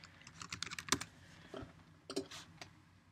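Quick, close clicks of a computer keyboard as a word is typed in, a few louder keystrokes standing out from the light tapping, with no voices.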